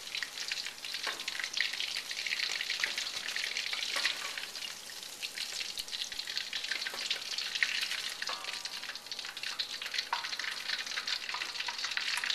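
Pieces of pork for sweet and sour pork frying in hot oil, a steady bright crackling sizzle with occasional stirring scrapes, close and continuous without talk.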